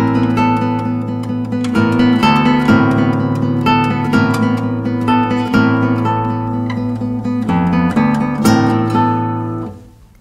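Classical guitar plays Rodrigo's Invocación y Danza at a slowed tempo, with plucked notes and chords ringing over a low bass line, close and clear, solo with no talking, fading out at the end.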